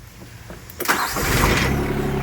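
A tractor's diesel engine cranks briefly, then catches and settles into a loud, steady running rumble, with no speech over it.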